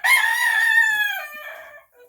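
A rooster crows once on a farm during chore time: one loud, close cock-a-doodle-doo lasting nearly two seconds, fading at the end, with no talk.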